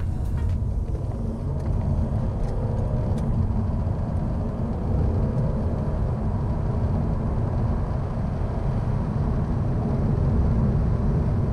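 A 2013 Mercedes C350 diesel accelerating hard from 30 to 70, a loud, continuous low engine drone with road rumble heard from inside the cabin, steady and unbroken.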